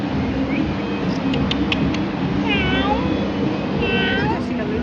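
A cat meows a few times, rising and falling calls over a steady background rumble and chatter.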